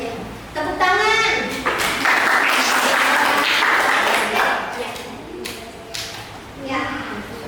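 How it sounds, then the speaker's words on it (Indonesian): Schoolroom audience applauding in an Islamic religious education lesson, a sustained broadband wash of hand claps lasting several seconds, fairly loud and close, with a teacher's voice speaking at the start and during the clapping. "Tepuk tangan."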